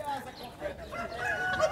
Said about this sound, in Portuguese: E aqui também tem umas franguinhas